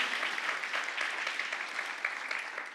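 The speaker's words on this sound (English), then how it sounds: "a quick round of applause to both Lissette and Dayssi" A round of applause from an audience at a real estate fireside chat panel, greeting panelists Lissette and Dayssi; steady, moderately distant clapping that fades slightly at the end.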